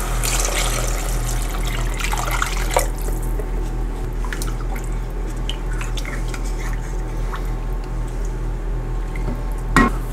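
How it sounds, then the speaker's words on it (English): Water pours into a cooking pot for pigeon peas and rice, a steady splashing wash with occasional clinks and drips, recorded close in a home kitchen. "I'm gonna add 4 cups of water."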